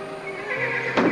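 Thoroughbred racehorses at a training yard give a short whinny, close and clear, with a brief louder burst near the end and no talk.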